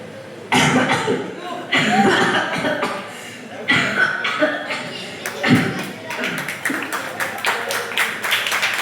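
A person at a ten-day camp imitates a cough with a voice, giving a few bursts of mock coughing, while laughter, claps and murmuring from a nearby group fill the room.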